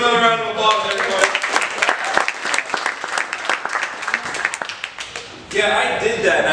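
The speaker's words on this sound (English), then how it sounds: "Give him another round of applause," An audience at an adult magic show gives a loud round of applause and some cheering, dense clapping for several seconds that tapers off near the end, with someone talking briefly before and after.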